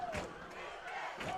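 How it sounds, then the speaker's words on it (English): Crowd cheering at a high school football game, a steady roar of many voices rising and falling in the stands, fairly distant and continuous with a swell near the end. "The crowd really cheering them on."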